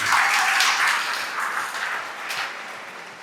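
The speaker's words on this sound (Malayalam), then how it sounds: "മോഹനച്ചനെ കയ്യടിയോടുകൂടി നിങ്ങളുടെ ഇടയിലേക്ക് ഞാൻ അവതരിപ്പിക്കാൻ കൊതിക്കുന്നു." A parish audience claps to welcome a priest at a farewell gathering, a dense, even wash of applause that holds steady and fades slightly toward the end.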